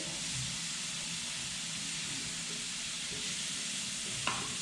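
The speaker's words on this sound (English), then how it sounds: "sear it long enough to get a nice little brown sear or char marks on your turnips" Hakurei turnips sear in a hot pan, giving a steady, soft sizzle and hiss throughout, with a single sharp clink of a utensil near the end.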